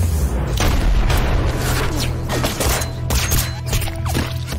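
Gunfire in a shootout scene: heavy booming shots over a dense, continuous roar of action, with sharp bursts and loud impacts layered throughout, close and loud.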